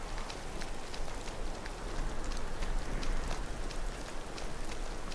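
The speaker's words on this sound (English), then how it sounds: "I kinda just want to stand out in the rain" Steady rain falling in the game Skyrim, a dense continuous patter of drops on surfaces with a low rumble beneath, moderately loud and unbroken with no voices.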